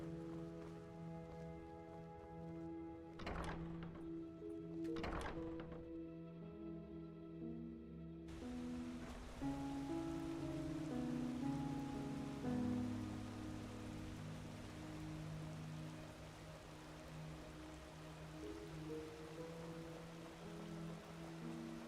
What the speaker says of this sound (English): Rains a lot in Enderal.